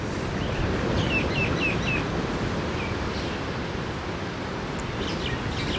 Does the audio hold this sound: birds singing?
yes